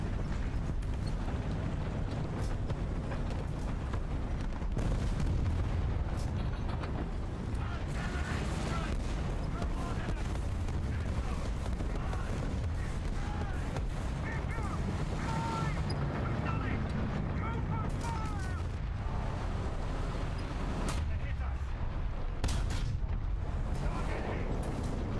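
Tanks blowing up under fire in the War Thunder video game: a steady stream of booming cannon shots and explosions rumbles throughout, with people talking over the battle noise.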